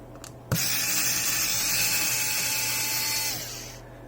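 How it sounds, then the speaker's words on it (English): A small electric screwdriver whirs steadily for about three seconds, backing screws out of a Samsung Galaxy A42 phone. The motor starts abruptly and winds down at the end, close and clear with no voices. "Let's get all these screws out."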